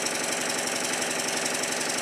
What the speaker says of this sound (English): is a triple expansion steam engine, it will run much better than this using steam